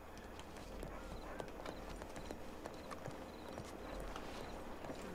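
In Red Dead Redemption 2 Online, a horse's hooves clop in a fast, continuous rhythm, quiet and steady throughout.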